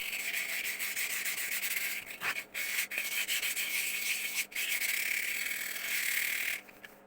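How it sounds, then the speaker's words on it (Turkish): Close, steady rubbing of fine sandpaper against a glass bottle, repeated scraping strokes with a few brief pauses, then stopping near the end. "Şimdi en ince zımparayı da yapıyorum bitti sayılır."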